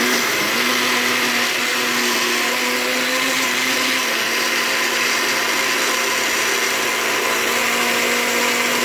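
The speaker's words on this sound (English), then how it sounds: "But now I'm gonna blend it up." An old blender whirs steadily as it purees a spinach drink, a loud, continuous motor whine with churning liquid that holds unchanged throughout, with no talk.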